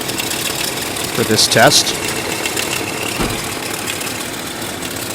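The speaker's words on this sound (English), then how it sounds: "I'm going to have the camera person go inside and rev it up" The engine of a GM OBS Chevy truck, which has a flickering battery light, runs steadily at a moderate level while a person talks briefly over it.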